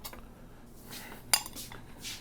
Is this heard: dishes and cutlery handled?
yes